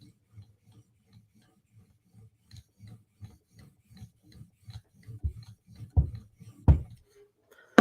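Chris Reeve Sebenza Tanto knife polished on a fine-grit whetstone toward a mirror edge: soft, rhythmic back-and-forth strokes that grow louder, ending in a few sharper scrapes and a final tap, close, with no talk.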